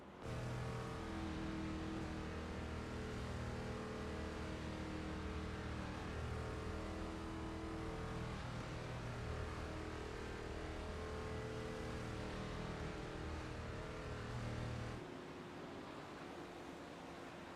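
Race cars in the iRacing video game roll two by two on a pace lap at Daytona in an ARCA Super Series event, a steady dense engine drone that holds evenly throughout and thins slightly near the end.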